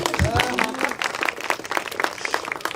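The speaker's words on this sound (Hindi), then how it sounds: "इतनी अच्छी ताली बजती है ना।" Audience applause at an office Christmas party held by a management group: a burst of clapping from a crowd, steady and fairly close, with a voice talking over it.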